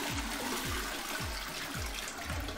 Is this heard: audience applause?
no